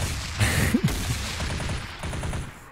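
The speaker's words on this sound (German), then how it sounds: "Alter Hudson, was hast du denn da für eine Kanone" Gunfire from a gun in the modded video game ARK crackles in rapid bursts, a fusillade of quick shots over a dense, noisy game background, with a few brief voice sounds mixed in.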